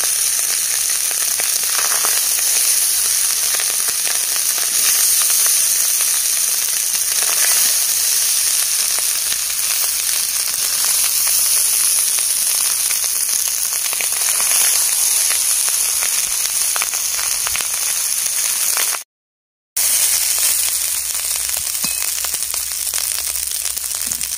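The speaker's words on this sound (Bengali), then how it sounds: "এবার একসঙ্গে মিশিয়ে নেবো, খুব সাবধানে নাড়তে হবে।" Vegetable fried rice sizzles and fries steadily in a pan while being stirred, a loud, continuous close-up crackle that lasts over twenty seconds with a brief cut near the end.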